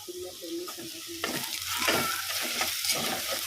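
Ginger, garlic and turmeric sizzling in a pan as they are stirred, with scraping strokes over a frying hiss that grows louder and denser partway through, close and without talk.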